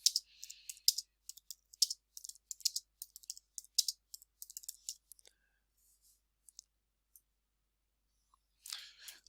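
Typing a comment on a computer keyboard: quick bursts of crisp key clicks with short pauses, then a few isolated taps and a final short flurry, close and clear with no talking.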